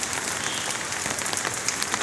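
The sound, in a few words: pouring rain on empty streets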